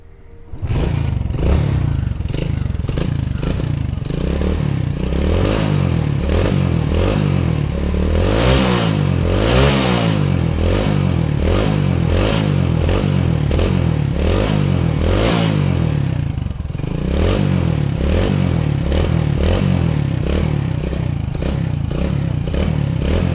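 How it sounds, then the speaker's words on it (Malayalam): A modified motorcycle with a nickel-plated silencer revs repeatedly up close, loud throttle blips rising and falling in a steady rhythm, with a brief dip before the revving resumes. "അപ്പോൾ ഇങ്ങനെയാണ് വണ്ടിയുടെ സൗണ്ട് കാര്യങ്ങളൊക്കെ"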